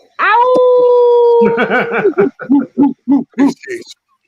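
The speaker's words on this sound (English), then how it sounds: "My dog." A dog howls loudly and up close in one long, steady rising howl, then breaks into a run of shorter yowling barks and howls that trail off.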